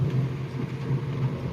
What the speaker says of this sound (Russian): Гремит.